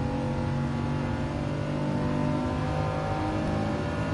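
Porsche race car engine revving in the racing game GT Sport, a steady loud drone with sustained harmonic tones holding through without pause, no talk.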